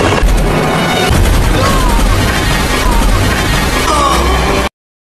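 Dense, continuous rapid machine-gun fire from a helicopter crackles loudly over a heavy rumbling drone, sustained for several seconds before cutting off abruptly.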